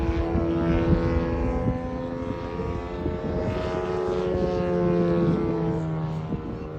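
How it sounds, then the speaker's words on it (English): A large 52% scale Ultimate aerobatic model plane makes a slow fly past at an outdoor model airshow, its propeller engine a steady, moderately distant drone that swells slightly and fades without a break. "And just a nice slow fly past, just demonstrating how slowly these aircraft can fly."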